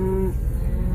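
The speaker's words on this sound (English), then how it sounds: "I love cows." A single short cow moo, clear and fairly close, comes during a cattle drive in Colorado with calves and riders on horseback, then fades into background noise.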